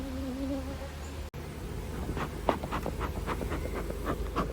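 Honeybees preparing for winter buzz and drone close by in a steady hum, with individual bees zipping past the listener.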